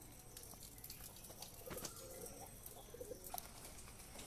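Pigeons kept in a home loft give faint, low cooing, with some high clinking and water-tap sounds over steady background noise and no talking.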